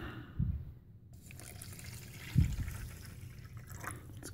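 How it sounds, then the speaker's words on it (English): Water pours into an MRE beef taco pouch in a quiet trickling fill with two brief heavier splashes near the start and middle, close and fairly soft, with no talk. "We'll go ahead and add our water."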